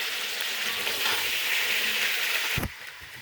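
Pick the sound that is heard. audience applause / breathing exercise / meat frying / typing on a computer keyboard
meat frying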